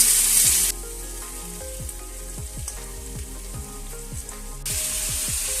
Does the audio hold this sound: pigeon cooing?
no